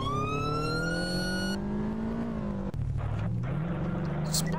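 A police car siren in a video game wails loudly with a rising, sliding tone, then gives way to a revving car engine and a lower shifting siren tone.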